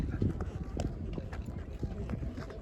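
A horse carries riders up the hills around Kodaikanal, its hooves clip-clopping in a steady, uneven patter on the ground beneath continuous talk.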